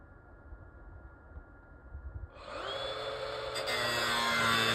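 A power tool cuts into the quarter panel of a 1964 Impala convertible; after quiet shop noise, a high whining grind starts abruptly and builds, loud and sustained, with no talk.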